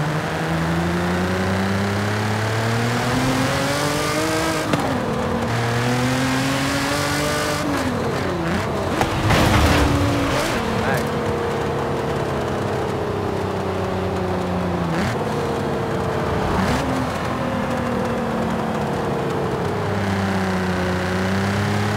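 A 2020 Nissan GT-R Nismo with a full exhaust in Forza Horizon 5 revs and pulls through gears, its pitch climbing and dropping at each shift, loud and continuous with a few brief tire squeals and no talking.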